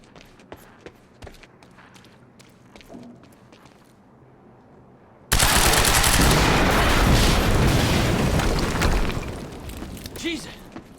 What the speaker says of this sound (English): HQ, we just heard an explosion near the harvesting perimeter